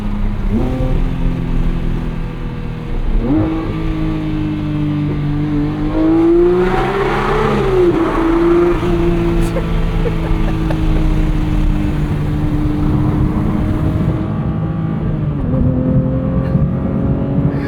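A Porsche 911 GT3 Touring's high-revving flat-six climbs and swells toward 9,000 RPM, loud and close with rising, wailing pitch sweeps and lifts, echoing as if under a bridge or tunnel, with no talk.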